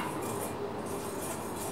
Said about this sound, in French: on va mélanger le sucre et la fécule au fouet